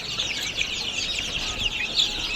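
A dense brood of 21-day-old broiler chicks on a farm chirps and cheeps steadily and continuously, many small voices overlapping close by with no pauses.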